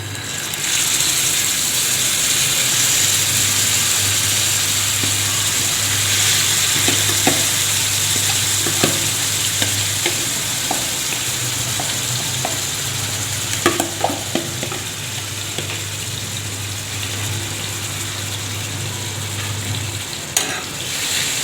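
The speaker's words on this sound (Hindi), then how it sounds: "फ्रेंड्स, मैंने इस तरह के 2 चम्मच के तेल के मैंने ऐड कर दिए। तो अब हम ये कलेजी इसमें डाल देंगे।" Beef liver fries in oil on a hot tawa, giving a loud, steady sizzle with a low hum underneath and scattered scraping stirs and small clicks throughout.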